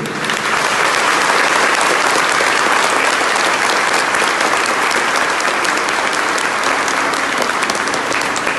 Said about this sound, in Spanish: Yo quiero pedir para ustedes un aplauso grande